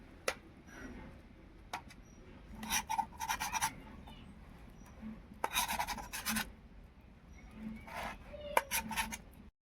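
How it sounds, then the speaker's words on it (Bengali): Spatula scraping and pressing through boiled elephant foot yam in a pan, soft rasping scrapes in short bursts separated by quiet pauses, close and fairly faint. "ওলগুলো আমি খুন্তির সাহায্যে সামান্য একটু ছোট ছোট করে নেব।"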